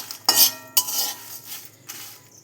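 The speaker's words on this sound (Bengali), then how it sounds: "তো সব এই দিকে সব নেড়ে নিচ্ছি" A spoon scrapes and clinks against a pan as cardamom, dried chili and cumin are stirred while dry-roasting, with a few sharp metallic strokes separated by pauses and only a faint sizzle beneath.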